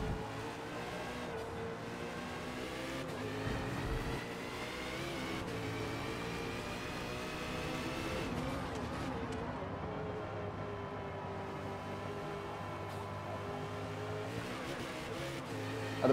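A car lapping the Nürburgring in the video game Forza Motorsport, its engine droning steadily with rising and falling revs and shifting harmonics, loud and continuous throughout with no talking.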